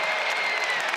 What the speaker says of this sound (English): That's that play that gets the crowd going.